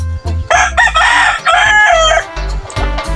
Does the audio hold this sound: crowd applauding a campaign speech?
no